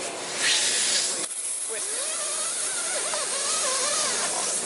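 A retractable central vacuum hose with a crush-proof design draws itself back in, giving a loud, continuous airy hiss with rubbing and whistling tones over several seconds, close by.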